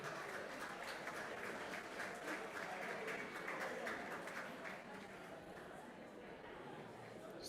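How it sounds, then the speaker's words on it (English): A crowd at a cocoa innovations hackathon in Ghana applauds the winning group, steady dense clapping heard from a distance with murmured chatter underneath, fading slightly toward the end. "So a round of applause to them once again"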